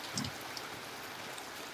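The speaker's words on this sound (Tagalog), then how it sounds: "lakas ng ulan sa bundok" Heavy rain falling in the mountains during a typhoon, a steady wash of dense drops and hiss that runs evenly throughout, fairly faint, with no voices.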